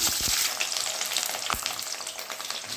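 Chicken do pyaza frying in a pan with capsicum, cumin and sugar added, giving a steady close sizzle throughout with a few louder crackles and stirring clatters and no talking.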